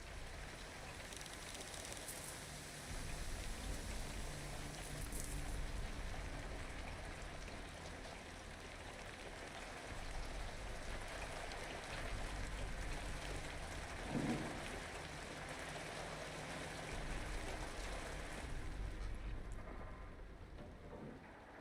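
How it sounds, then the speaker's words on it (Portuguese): Steady rain patters continuously over a broad, hissing wash of water, with occasional louder swells and no voices, fading slightly near the end. "Barulho de chuva"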